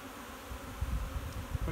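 Honey bees fill a breeder hive box, their dense, steady buzz a close, soft drone with occasional faint thumps of handling.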